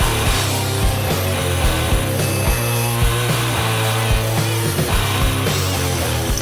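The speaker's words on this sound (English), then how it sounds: "I traced the rough shape for a handle onto a small board and cut 2 parts" A power saw cuts a handle shape from a small wooden board, droning steadily and loudly while its pitch wavers as it bites through the wood, with no pauses.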